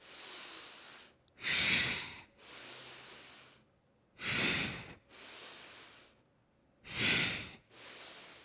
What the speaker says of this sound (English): Breath in and exhale.